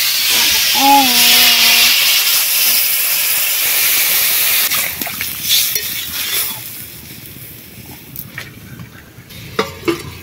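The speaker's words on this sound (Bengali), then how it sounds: "এবারে জল দিয়ে দিচ্ছি" Water poured into a hot pan of turmeric and chilli powder for a radish fish curry gives a loud burst of hiss and steam, then eases to a softer simmering sizzle with a few light clinks; a brief voice is heard near the start.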